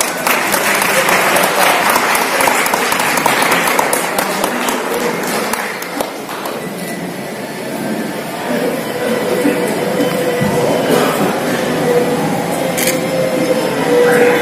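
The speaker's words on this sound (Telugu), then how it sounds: "గట్టిగా చప్పట్లు కొడదాం." Applause at a Christmas celebration in Kodangal: dense, steady clapping from a crowd runs the full length, thinning slightly midway, with voices and other noise mixed underneath.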